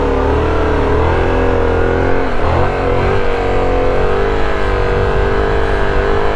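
A Yamaha FZ-07 motorcycle engine held at high RPM during parking-lot practice, a loud, steady, droning whine that runs without a break from start to finish.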